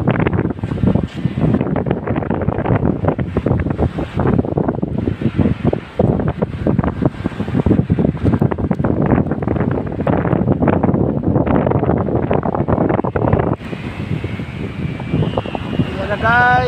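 Strong wind roars steadily and loudly across the microphone outdoors while a repaired Vietnam-style kite flies, with gusty buffeting throughout and a brighter hiss near the end.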